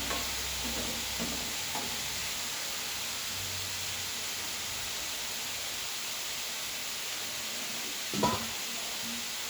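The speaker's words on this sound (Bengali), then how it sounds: "এদিকে আমি সবজিগুলোকে ভাজতে দিয়ে দিচ্ছি।" Vegetables fry in a pan, producing an even, close, continuous hiss of sizzling oil, with a couple of faint utensil knocks and one louder clatter near the end.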